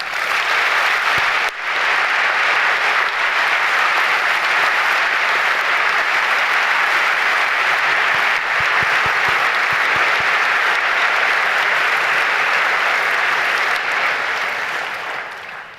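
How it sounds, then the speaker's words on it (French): Loud, sustained applause from an audience at a medical graduation ceremony, with steady dense clapping that continues for many seconds before tapering off. "Je vous demande de les applaudir."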